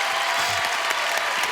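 A French television studio audience claps steadily and fairly loudly for a second and a half, with dense broadband applause and a few sharper claps standing out.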